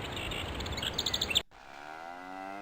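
A crow in the video game Puppet Motel sounds off in a quick burst of bright, chirpy calls lasting about a second, then cuts abruptly to a quieter hum.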